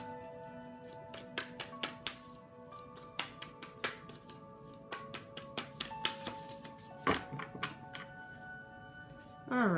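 Tarot cards are shuffled by hand in a series of crisp, irregular riffling taps and snaps, close and moderately loud, over steady background music.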